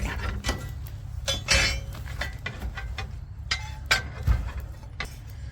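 A hot metal stove grate is flipped and shifted, making several sharp metallic clanks and scrapes at uneven intervals, close and fairly quiet over a faint background hum.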